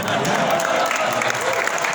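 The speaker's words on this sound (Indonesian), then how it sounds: "Boleh tepuk tangan dulu." Brief burst of audience clapping at a talk in Indonesian, filling the moment evenly with a murmur of voices underneath.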